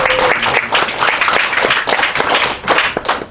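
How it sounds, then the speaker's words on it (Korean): A congregation at a Sunday church service claps to encourage a newcomer, with loud, dense applause and many overlapping hands sustained throughout, close and lively. "우리 박수로 우리 격려하도록 하겠습니다"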